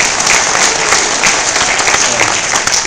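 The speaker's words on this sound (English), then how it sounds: "So everybody, you know, clap for Boba." Loud, dense applause from a large convention crowd at a Star Wars Celebration V panel, steady and sustained throughout with no pauses.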